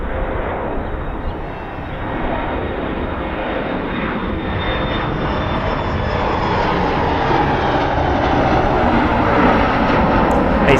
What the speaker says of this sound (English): So like we have this one taking off